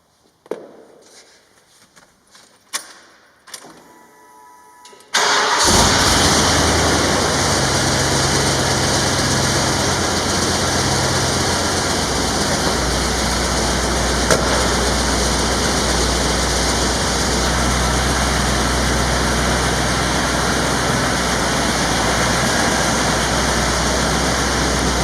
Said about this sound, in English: We'll start things up and see how it runs.